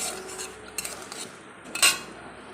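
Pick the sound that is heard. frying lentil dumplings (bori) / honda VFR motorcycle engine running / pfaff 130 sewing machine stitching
frying lentil dumplings (bori)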